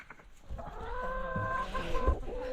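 Homestead hens, many of them molting, cluck and croon close by in a steady run of throaty calls, with a couple of soft thumps.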